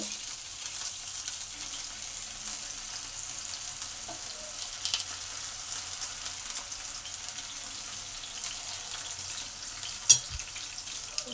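Bata fish frying in a pan over low to medium gas, a soft steady sizzle running throughout with a brief clatter near the end, no voices.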